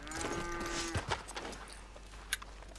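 Cattle in a farm barn moo in the video game Red Dead Redemption 2: one drawn-out low moo early on, then quieter barn ambience with faint thumps and clatter.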